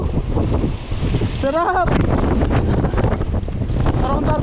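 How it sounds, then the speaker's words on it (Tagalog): Strong wind buffets the microphone during a bike ride in San Rafael, Bulacan, a constant loud roar under shouting and excited talk. "lakas ng hangin, oh."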